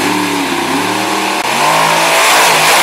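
Loud, close monster truck engine revving hard at a night motorsport show, pitch sweeping down then climbing again, continuous throughout.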